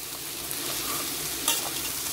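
Vegetables with salt are stirred in a hot pan for a vegetable rice dish, with a steady sizzle and a clear scrape of the spatula midway, close and alone without talk.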